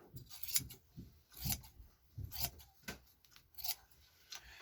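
Scissors snip through fabric pieces for a fell seam, a series of crisp cutting strokes about every second, close and fairly quiet, with no talking.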